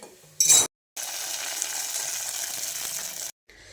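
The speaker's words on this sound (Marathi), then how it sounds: "पटकन गॅस बंद करून ही तडका आपल्याला खिचडीमध्ये टाकून घ्यायचा आहे" A hot tempering of garlic and Kashmiri chili is poured into moong khichdi, giving a short sharp crackle and then a loud, steady sizzle that hisses for a few seconds before cutting off.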